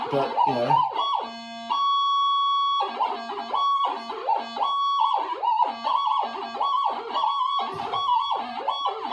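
A metal detector switched to mono mode gives out electronic signal tones: rapid warbling, siren-like beeps broken by a long steady held tone, loud and close with no speech.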